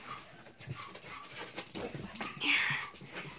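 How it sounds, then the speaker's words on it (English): Dogs jumping and play fighting on a bed make a busy, close mix of scuffling, panting and small whimpers and yips, with continuous rustling of bedding throughout. "my dogs were jumping on my bed, exactly, just like that"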